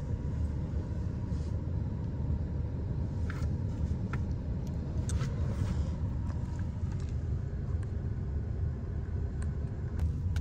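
A Grab car moving through Bangkok traffic gives a constant low engine and road rumble inside the cabin, with faint clicks and small knocks scattered over it and no talk.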